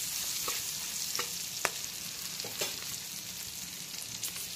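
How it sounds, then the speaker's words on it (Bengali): Green chillies fry in oil with turmeric in a pan, giving a steady close sizzle broken by a few crackles and stirring scrapes, with no voices. "এখন লঙ্কাটাকে ভালো করে হলুদ আর তেলের সঙ্গে ভালো করে ভেজে নেব"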